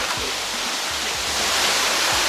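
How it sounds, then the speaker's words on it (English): Steady rushing water of a jungle stream on Lombok, loud and close, with low splashing pulses as someone wades upstream through it. No voices are heard. "We're gonna start walking in the water, so we gotta walk upstream."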